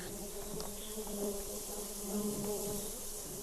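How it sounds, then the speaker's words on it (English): Russian honey bees swarm around an opened wooden hive, a dense continuous buzzing drone close by with individual bees whining past, steady and without talk. "these are Russian bees."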